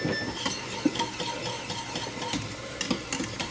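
Gravy stirred in a pan for poutine, the Quebec dish, with steady soft scraping and occasional spoon taps against the pan over a low simmering hiss, close and moderately quiet.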